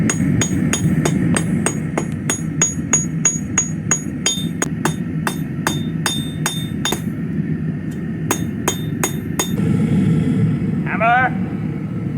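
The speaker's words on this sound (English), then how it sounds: "Hammer." A blacksmith hammers hot metal, drawing it out on an anvil. Steady, ringing strikes come in a quick even rhythm over a low rumble, pause briefly, then a few more blows follow.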